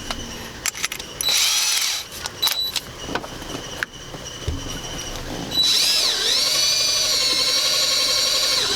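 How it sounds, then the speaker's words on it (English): A power drill whirs in short bursts amid clicks and handling noises, then runs in one longer high-pitched spin toward the end, drilling holes for nutserts in a Toyota Tacoma during a subwoofer install. "let's go ahead and drill this up"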